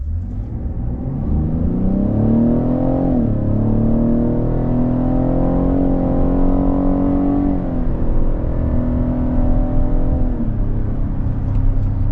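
A 2024 Cadillac XT6 Sport SUV drives and accelerates, its engine a loud steady rumble that rises in pitch through the gears, with a brief drop at each shift, heard from inside the cabin.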